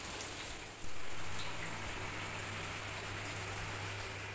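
Steady rain hisses continuously, a dense wash of falling drops with no talking.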